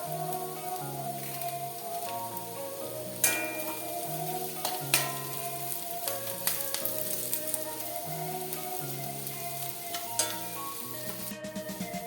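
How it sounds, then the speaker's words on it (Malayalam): Ginger, garlic, green chilli, onion and curry leaves frying in oil for an Onam ginger curry, a steady close sizzle with occasional spoon scrapes and taps, background music playing underneath, no talk. "ഇതുപോലെ നമുക്കൊരു ബ്രൗൺ നിറമാകുന്നത് വരെ നമുക്കിതൊന്ന് വറുത്തെടുക്കാം"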